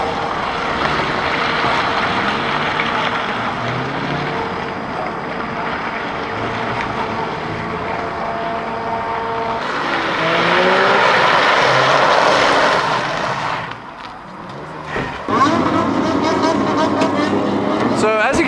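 Steady roar of heavy traffic from a nearby main road running north–south out of Tokyo, heard at night from an abandoned pachinko parlor car park, continuous and loud with a swell of passing vehicles midway.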